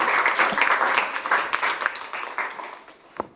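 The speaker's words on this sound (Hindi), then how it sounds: "जोरदार तालियां शगुन जी के लिए।" Hearty applause from a quiz show audience for a contestant who just answered correctly, loud dense clapping at the start that gradually thins and fades, ending with a few scattered claps.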